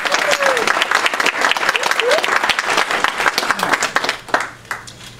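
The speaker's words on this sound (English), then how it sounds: "I want to give them some applause." Applause from a fundraiser cabaret audience, a dense sustained patter of many hands clapping at close range, with scattered voices and cheers mixed in before it thins out near the end.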